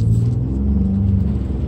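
A 2017 Ford Raptor's engine rumbles loud and close with a steady low-pitched drone, holding a continuous throaty revving tone without breaks and no talking over it.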